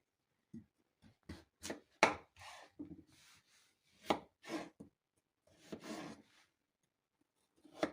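A knife cuts a raw potato into quarters or sixths on a kitchen cutting board: a string of sharp, close chopping and slicing strokes in an irregular rhythm, separated by short pauses, with no talking.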